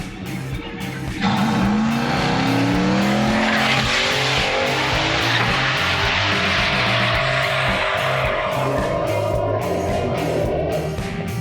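A drag race car launches hard down the track, engine roaring up through rising gear pitches with tire noise at the start, then a sustained loud blast that stays close and powerful to the end, with no talking.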